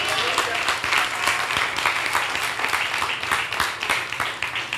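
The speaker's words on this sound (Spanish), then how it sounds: "Denle un aplauso, Señor." A congregation at a Spanish-language church worship service breaks into sustained applause, dense and even clapping filling the room steadily for several seconds.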